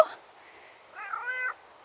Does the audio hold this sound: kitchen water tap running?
no